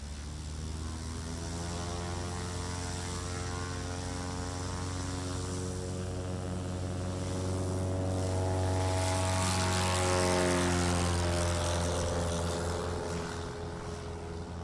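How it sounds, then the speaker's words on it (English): A 2000 Aviat Husky A1 Bravo propeller plane takes off at a STOL practice event at an airfield, its steady droning engine and prop buzz rising a little in pitch and swelling louder midway before easing off slightly. "had Hall, one of the organizers of the show, flying that 2000 Aviat Husky A1 Bravo model right here from Gallatin, Tennessee."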